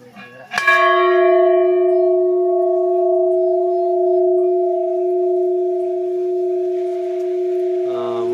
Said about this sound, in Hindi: ये है बढ़िया घंटी, बजाओ घंटी फिर।